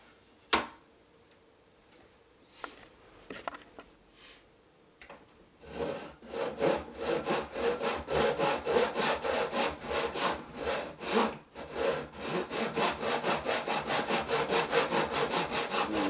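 Wood being sanded on a lap steel guitar: a few scattered scrapes and knocks, then steady rapid back-and-forth rasping strokes close up, continuing loudly for the rest of the clip with no talking.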